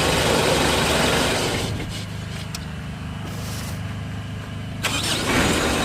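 Car engine starting after a starter pinion gear (Bendix drive) replacement for a hard-starting fault, a brief cranking burst settling into a steady close idle hum.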